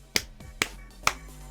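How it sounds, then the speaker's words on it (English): Three sharp, isolated claps ring out at roughly even half-second intervals, each crisp and close with a brief decay, over a faint steady hum. "A lousy hand clap?"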